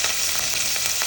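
Garlic and fenugreek sautéing in a hot pan as the base of a crab roast, a brief dense hiss of frying close by with light stirring, no talk.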